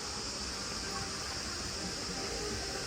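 A waterfall in Antalya gives off a steady, dense rush of falling water that holds unchanged throughout without any break.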